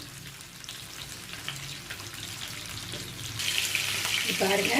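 Chicken drumsticks fry in a pan on a low to medium flame, a steady soft sizzle running throughout that grows louder and brighter toward the end, with a brief spoken word.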